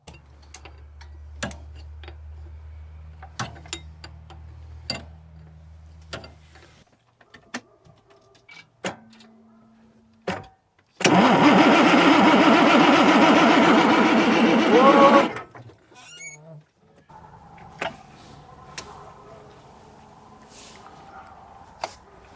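The starter cranks over the engine of a 1999 International truck whose injectors are turned off. It makes a loud, steady churning for about four seconds, set among scattered clicks and mechanical ticks in an otherwise quiet shop.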